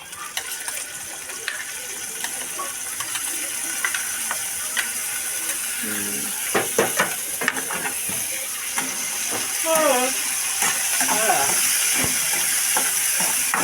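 Green chillies sizzle and fry in a pan for tomato chutney, a steady hiss with scraping and stirring clicks, while voices speak intermittently nearby.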